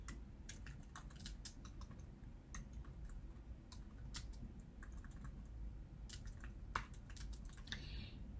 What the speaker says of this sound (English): I'm just gonna type a few options here